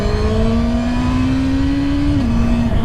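A Suzuki Hayabusa motorcycle engine revs toward high rpm, a loud sustained whine whose pitch climbs steadily before easing slightly, over a constant roar of wind and road noise.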